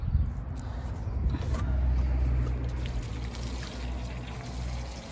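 Water pours onto a newly planted tomato plant in a grow bag, a soft, steady splashing and trickling close by that swells in the middle and continues quietly, with no talking over it.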